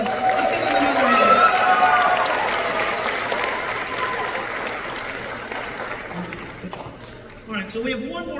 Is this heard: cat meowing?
no